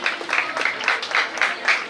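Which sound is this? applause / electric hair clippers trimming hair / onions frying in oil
applause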